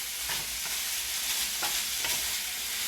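Garlic being stirred into ground turkey in a pan for cheesesteaks, a steady sizzle with a few scraping spoon strokes spread across it, fairly close and with no talking.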